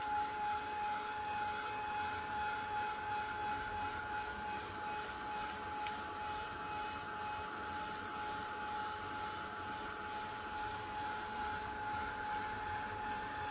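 A heat tool blows steadily across a paper planner page as it dries, a continuous whirring hum with a high steady whine, close and constant with no talking.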